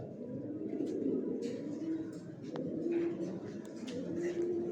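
White racer pigeons coo softly and repeatedly in a loft. The rolling, overlapping coos are moderately close, with occasional faint chirps and thin knocks in the background.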